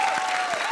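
A brief burst of audience applause at a televised Hindi comedy show, a steady dense wash of clapping filling the short moment with no voices on top.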